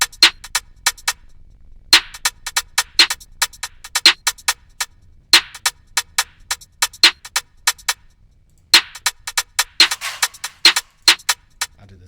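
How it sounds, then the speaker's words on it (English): Drill beat with a low hi-hat pattern ticking in fast, crisp bursts and rolls, repeated steadily alone without any voice. "this low hat sounds like this"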